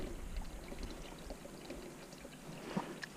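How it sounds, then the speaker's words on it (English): Spring water trickles and pours steadily outdoors as it is collected, a continuous close wash of splashing with small drips standing out. "So here's a spring. I'm gonna get some water here."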